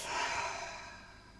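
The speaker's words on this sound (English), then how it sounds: "Breathe in through your nose. Exhale out the mouth." One soft, breathy exhale swells quickly and then fades slowly, quiet and close, with no talking.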